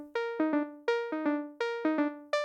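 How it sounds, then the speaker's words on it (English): A dry, flat synth lead in an unprocessed music mix plays a bright, buzzy repeating melodic phrase of short stabs and held notes, rhythmic and upfront, with no voices. "So this lead sound in the before track sounds like this."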